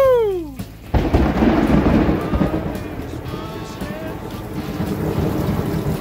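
Loud thunder rumbles and rolls through a massive thunderstorm outdoors while heavy rain hisses steadily on surrounding surfaces, the roar swelling early and then easing into a continuous wash of rainfall.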